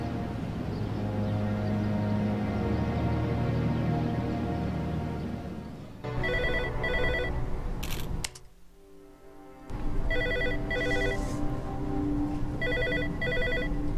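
A telephone rings in the video game Ghost Files: The Face of Guilt, bursts of bright electronic trilling repeating in pairs after an ambient musical drone, clear and fairly close with no talking.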